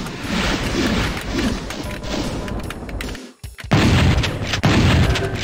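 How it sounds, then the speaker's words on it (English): Plasma gun fire in the Doom video game, loud repeated booming energy blasts in quick bursts with a brief lull in the middle, no talk over it. "Trigger happy with my plasma gun there."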